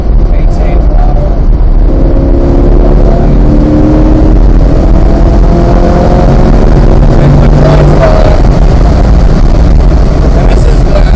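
Chevrolet Corvette C8 Z51 lapping hard at Motorsport Ranch, its engine droning loudly from inside the cabin for the whole stretch, pitch rising and falling with throttle and braking while a voice talks over it.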